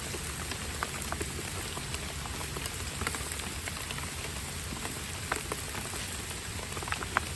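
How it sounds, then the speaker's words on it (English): Steady rain patters on surfaces outdoors while burgers cook on a barely sheltered grill, a dense, even hiss of drops with occasional sharper taps and no talking. "Cooking in the rain."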